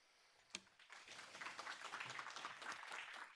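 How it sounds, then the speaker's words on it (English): Audience clapping at the end of a Bayesian statistics lecture, a sharp single clap, then scattered, modest applause from a small class, fairly quiet and brief. "Don't clap, it's a class."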